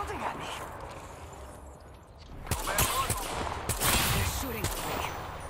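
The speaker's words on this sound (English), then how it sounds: "That's somebody, shooting at me." Gunfire aimed at the player in an Apex Legends match, sharp bursts of shots arriving in the second half over game noise, with a voice talking throughout.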